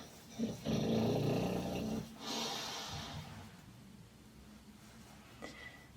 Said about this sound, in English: you'll be able to hear him breathing in the background